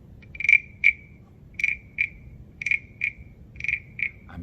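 A small frog-shaped wooden guiro is scraped and tapped in short paired strokes, a rasping zip-zip repeated four times at a steady pace, close and clear with no voices.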